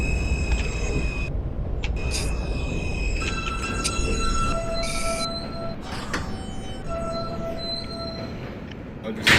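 An R160A subway train in OpenBVE running along the track, with steady rumbling wheel and motor noise, high whines and tonal squeals, and brief clanks, while a voice talks over it.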